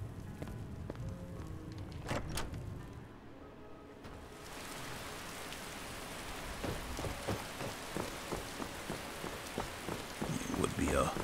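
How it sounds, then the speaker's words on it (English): Steady rain falls in Skyrim near Helgen, a broad hiss of drops with occasional sharper patters growing denser and louder toward the end, heard on its own without talk. "It would be a terrible rainy day."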